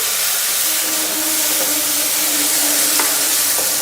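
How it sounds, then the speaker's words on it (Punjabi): Finely chopped medium onion fries in hot oil with cumin for an aloo shimla mirch sabzi, giving a loud, continuous close-up sizzle and hiss, with faint stirring taps and no speech. "ਇੱਥੇ ਮੈਂ ਇੱਕ ਮੀਡੀਅਮ ਸਾਈਜ਼ ਦਾ ਪਿਆਜ਼ ਜਿਹਨੂੰ ਮੈਂ ਬਰੀਕ ਚੌਪ ਕਰ ਲਿਆ ਸੀ ਉਹ ਪਾ ਦਿੰਦੇ ਆ ਤੇ ਇਸ ਨੂੰ ਚੰਗੀ ਤਰ੍ਹਾਂ ਭੁੰਨਦੇ ਆ"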